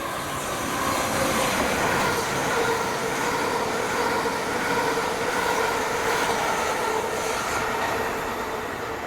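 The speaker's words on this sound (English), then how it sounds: "here's a train bound for Ramsgate." A train bound for Ramsgate passes through Thanet Parkway station as a steady, loud rolling rumble with rail noise and faint squeal, sustained the whole time with no talking.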